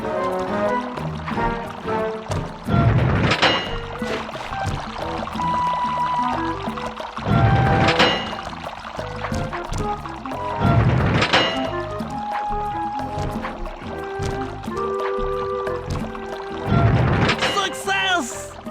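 Water gushing and pouring through a turned valve in the video game Sly 2: Band of Thieves: repeated surges of rushing liquid with hollow thunks over steady background music.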